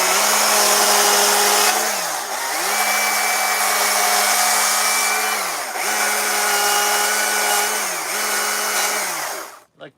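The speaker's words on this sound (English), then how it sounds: "Running the MSA 220 quarter pitch sprocket with a 12-inch bar," Stihl MSA 220 battery chainsaw with a quarter-pitch sprocket and a regular 12-inch bar carving wood, a steady loud whine that dips briefly each time the cut is eased, then cuts off at the end.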